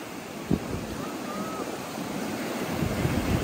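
Ocean surf at Praia Leste beach in Paraná, a continuous wash of waves with wind buffeting the microphone and one brief thump near the start.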